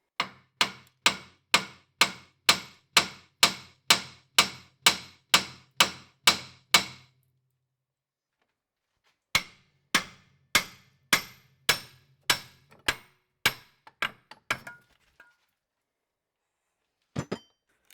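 Hammer blows strike the steering knuckle of a Volvo V70/S60-type car to loosen the front wheel bearing: a fast, evenly spaced run of about fifteen loud metallic strikes, a pause, then another irregular burst and one late pair.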